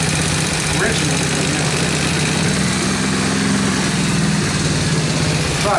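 A two-stroke engine idles steadily with a PWK carburetor being adjusted, throttle turned and mixture leaned; the buzzing drone runs continuously and close, with a low warbling hum that shifts slightly in pitch partway through.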